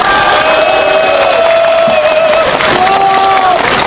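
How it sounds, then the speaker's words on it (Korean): A large political rally crowd applauds steadily and loudly, a dense wash of clapping with some cheering and a prominent voice running over it throughout. "여러분 힘찬 박수로 여러분의 의지를 다시 한번 보여주시기 바랍니다"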